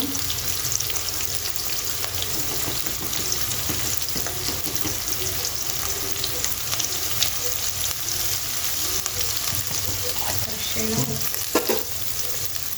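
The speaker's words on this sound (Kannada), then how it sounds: "ಸ್ವಲ್ಪ ಮಿಕ್ಸ್ ಮಾಡಿ ಎಣ್ಣೆಗೆ ಫ್ರೈ ಮಾಡ್ಕೊಡಿ" Onion frying in oil with turmeric and salt, a steady dense sizzle throughout with occasional light stirring scrapes and clicks, close and even in level.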